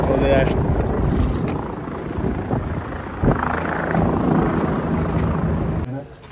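Helicopter flying in strong gusty wind at Phata helipad on the Kedarnath route, a steady rotor drone mixed with wind buffeting, with people talking over it throughout.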